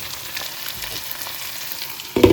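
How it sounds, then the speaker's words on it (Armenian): Onions already turned translucent frying steadily in a pot, with tomatoes tipped on top; a soft continuous sizzle runs throughout, ending in a louder brief burst of sizzling. "արդեն իսկ թափանցիկ դարձած սոխի վրա ավելացնում ենք լոլիկները"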